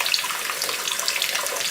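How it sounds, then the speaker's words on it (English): Tap water runs into a film developing tank for a quick rinse during black and white film processing, a steady bright splashing hiss that carries on without pause. "So I'll fill it up, dump it out once just to give it a quick rinse."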